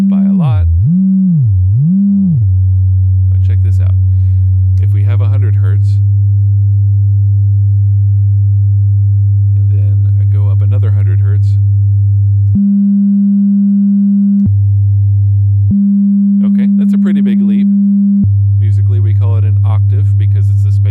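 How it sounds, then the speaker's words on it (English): A steady pure electronic sine wave test tone holds, then jumps between pitches in stepped changes up to about 800 hertz; a voice talks intermittently over the continuous hum. "So here's our sine wave, and I can raise it a little bit."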